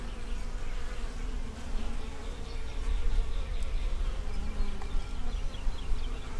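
Honey bees buzz around the queen in an open hive, a dense, continuous close-up hum with overlapping wingbeats and no talking.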